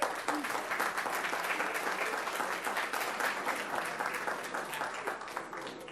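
An audience applauds adult-education graduates coming forward at a ceremony in Palm Beach County, a sustained dense wash of clapping that holds steady and tapers slightly toward the end.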